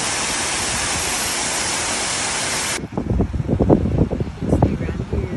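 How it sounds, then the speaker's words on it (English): Water gushes off a hillside in a loud, steady roaring rush for nearly three seconds. It then cuts abruptly to a person talking over gusty wind and fainter background noise. "You can see the water is still gushing off that hill, just like it was yesterday."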